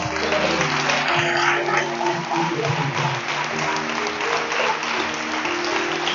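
Church congregation applauding and acclaiming the Lord, a dense sustained burst of clapping with crowd voices and cheers, loud and full, gradually thinning toward the end.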